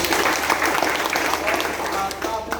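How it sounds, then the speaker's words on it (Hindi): An audience at a gathering claps loudly in a dense, sustained burst, with a voice talking over the applause. "उनके लिए भी जोरदार तालियां।"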